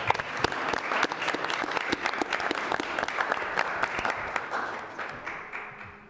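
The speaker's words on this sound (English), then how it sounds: "let's have a round of applause for Sally." An audience at a school committee meeting breaks into applause, a crowd of hands clapping briskly and unevenly in a room, holding strong for several seconds before thinning out and fading toward the end.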